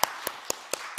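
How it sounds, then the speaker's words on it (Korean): Five evenly spaced hand claps ring out at a steady rhythm, close and crisp, during an online church youth service. "박수! 와"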